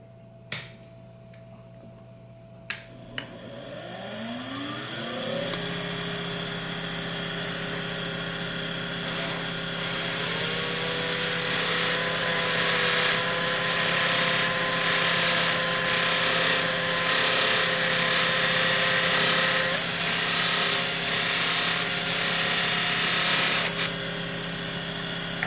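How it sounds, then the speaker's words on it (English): Pipe-polishing motor spinning up to roughly 2000 RPM, a steady loud whine and hum that rises after a few seconds and holds for about twenty seconds before dropping off, alone without talk. "Speed on the motor is medium high at approximately 2000 RPM."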